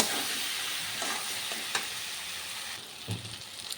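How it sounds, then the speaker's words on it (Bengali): Paneer and potato curry with salt and turmeric sautéing in a pan, a steady sizzle broken by scraping stirring strokes and occasional spoon knocks, no voices. "একটু কষিয়ে নেব।"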